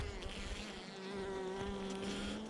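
Honey bees buzzing around a queen clip at a hive, a steady close droning hum with a sustained tonal whine and no voices.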